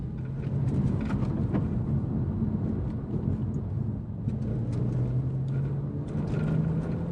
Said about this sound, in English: This car doesn't even have sports exhaust, but it still sounds brilliant.